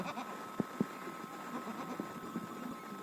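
Goats on a farmyard give a few short, faint bleats over a steady background hum, with brief calls scattered through the few seconds.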